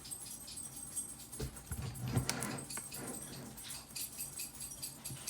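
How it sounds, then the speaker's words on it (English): A dog moves about in the background of a craft room, its tags giving off soft, intermittent jingles and rattles, with a brief louder clatter midway; the sound is faint. "All that jingling you hear is my dog in the background."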